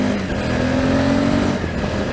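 Motorcycle engine, apparently a Suzuki V-Strom, revving hard as it accelerates past an Audi on a country road, a steady loud drone with rising harmonic pitch through the opening stretch before the tone drops.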